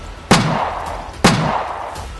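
Two sharp, loud rifle gunshots fired at dogs about a second apart, each with a booming echo that rings out and decays.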